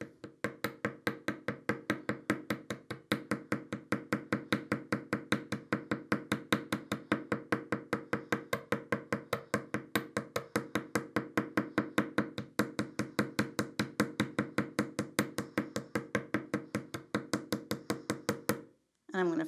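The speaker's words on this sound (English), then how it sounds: "I'm going to tap going around, and it's going to give us a little bit of a hammered look" Rapid, steady metallic tapping of a Whammer Deluxe hammering around a wire frame, loud and close, continuing evenly for many seconds before stopping abruptly near the end.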